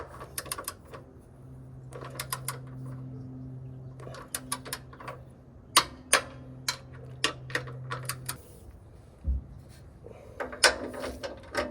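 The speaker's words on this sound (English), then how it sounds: "go ahead and torque them down to spec" A ratchet wrench torquing down rock slider bolts on a Rivian R1T, sharp repeated clicks in irregular bursts, close and clear over a quiet background with a faint low hum in the first part.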